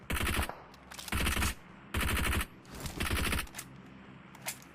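Automatic gunfire in the mobile game PUBG Mobile comes in four loud, rapid bursts of about half a second each, separated by short gaps, with a couple of fainter single shots afterward.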